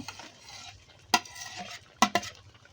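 Prawns are stirred into a simmering malai curry gravy. A soft bubbling bed is broken by three sharp spoon clacks against the pot: one near the middle and a quick pair just after, all close and distinct.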